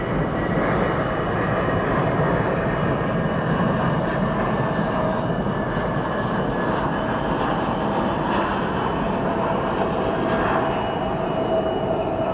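An airliner departs O'Hare Airport, its jet engines roaring steadily and loudly for the whole stretch, a broad continuous rumble with no pauses.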